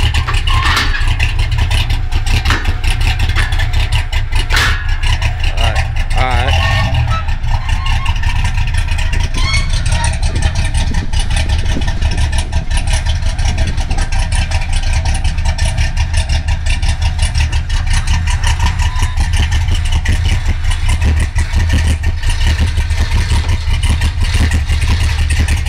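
A 1979 LS car's engine runs steadily while warming up, a loud, continuous low rumble with occasional rises in revs, close by and mostly free of talk.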